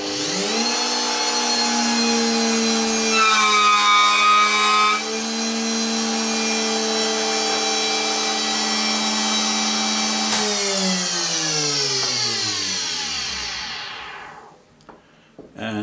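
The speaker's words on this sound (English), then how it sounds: "I just started a cut to see how big my chamfer is." A chamfering machine's end mill whines loudly and steadily during a test cut on a workpiece, with a harsher cutting burst partway through, then the motor winds down to silence.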